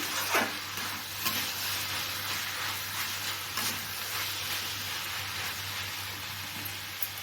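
Cucumber simmering and frying in a pan while being stirred, giving a continuous soft hiss and sizzle with occasional scraping strokes of the spoon, moderately close.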